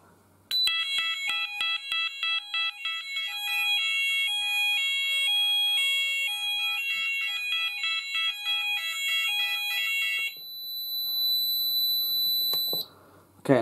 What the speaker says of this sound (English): The buzzer's kind of annoying with this panel, but I think it's fine.